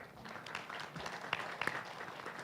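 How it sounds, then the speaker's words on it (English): Light applause from the audience at a scientific conference closing event, scattered and fairly distant, with a few sharper individual claps standing out. "Can I have a round of applause for us?"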